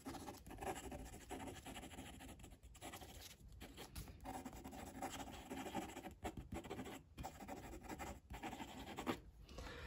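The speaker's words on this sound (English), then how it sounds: "Now some quick writing." A Lamy Ideos fountain pen writing quickly on paper, a faint close scratching of the nib in short strokes with brief pauses between words.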